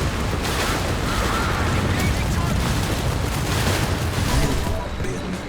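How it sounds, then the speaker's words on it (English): Small arms and machine guns fire in the war video game BattleFall: States of Conflict, a dense, continuous rattle of gunfire mixed with deep booms, loud and unbroken throughout. "The small arms and machine guns rattling off all sound great."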